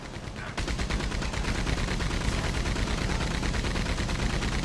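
Mounted machine gun in the video game Red Dead Online fires a sustained, loud, fully automatic burst, rapid shots running continuously after a brief quieter moment at the start, with no talking.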